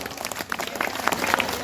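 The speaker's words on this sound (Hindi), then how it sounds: "तालियां बजा दो मुझे" Audience applause at a Hindi kavi sammelan poetry gathering, a short burst of many hands clapping that builds slightly over under two seconds, with no speech over it.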